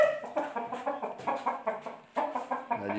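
A full black Aseel hen clucks in a rapid series of short, close, fairly quiet clucks with brief pauses, heard alone without talk.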